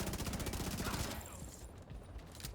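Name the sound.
enemy machine gunner firing in video game The Division 2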